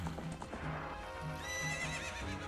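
A horse in Ocarina of Time gives a short whinny over a steady clip-clop of hooves, clear and alone with no talk.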